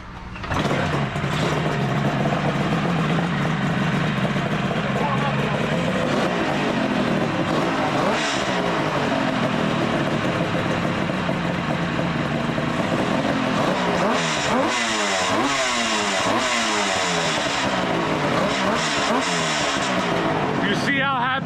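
A motorcycle engine idles, then revs up and down, loud and close, with a rising and falling growl and people talking over it.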